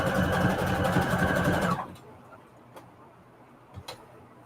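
A sewing machine stitches fabric for faux-quilt junk journal pockets, running fast and loud in a steady whirring rhythm for under two seconds before stopping, leaving a quiet room with a few faint ticks.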